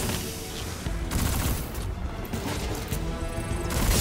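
Sustained SMG gunfire in the video game Destiny 2: a dense, continuous rattle of rapid shots with crashing bursts, loud and close, with no talk over it.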